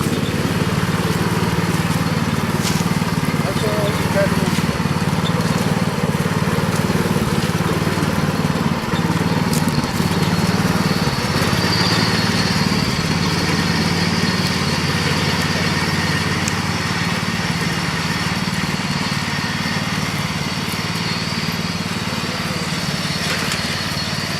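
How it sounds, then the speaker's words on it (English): A neighbor's lawn mower runs steadily and loudly throughout, its engine droning close by with no break in the sound. "He's mowing over our property."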